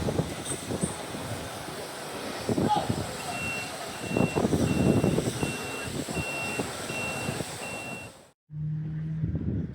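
A truck delivering a shipping container at a racing circuit in the Caribbean, its reversing beeps repeating steadily over engine rumble and some background talk, close and moderately loud before cutting off abruptly near the end.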